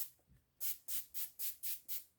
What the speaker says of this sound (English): we are going to spray this with my setting spray.